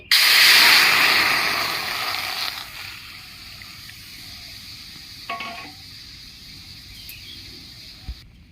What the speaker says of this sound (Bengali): ছেঁকে রাখা টমেটোটা দিয়ে দিচ্ছি